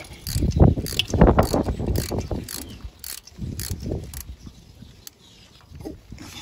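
A socket wrench with an 18mm long-reach socket undoes a bolt on a Triumph Thunderbird 1600 motorbike, a close series of quick ratcheting clicks in bursts that tapers off into quieter clicks.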